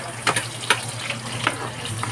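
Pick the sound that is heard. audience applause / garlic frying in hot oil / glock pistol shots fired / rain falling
garlic frying in hot oil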